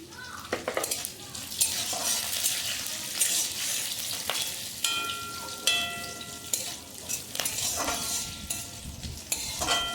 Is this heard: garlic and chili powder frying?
yes